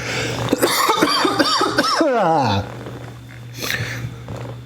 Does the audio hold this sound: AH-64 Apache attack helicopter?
no